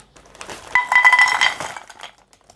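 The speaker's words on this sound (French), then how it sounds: "je vais verser tout le contenu du sac dans une casserole." Dry contents poured from a bag into a metal saucepan make a bright, close clinking rattle that lasts just over a second before it trails off.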